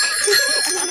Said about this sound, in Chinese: 你们可以让我听一听你们的车铃声有多响吗？